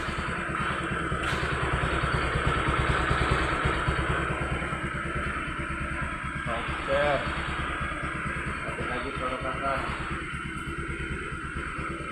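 A Honda Vario Techno 125 motor scooter rides at night after a full service with an engine rebuild, its steady engine drone continuous and close, with brief voices over it.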